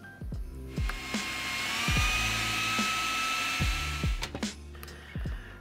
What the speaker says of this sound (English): Now this needs to get blended too.